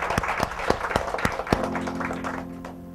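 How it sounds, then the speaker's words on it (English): Applause from an audience at a talk, a short burst of distinct claps with a few sharp hits standing out, thinning out as a low tone enters near the end. "Karthik and his team do deserve a big round of applause for what they do"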